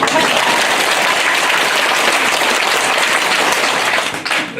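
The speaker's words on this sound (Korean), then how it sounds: "올해 들어서 듣는 박수 소리 중에서 가장 뜻깊고 고마운 박수 같습니다" Loud, sustained applause from an elderly audience at a senior college lecture in Gimpo, a dense wash of clapping that thins briefly near the end.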